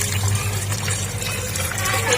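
Water runs and splashes steadily while mutton is washed in a kitchen, a continuous close, loud rushing flow with slight fluctuations and no speech.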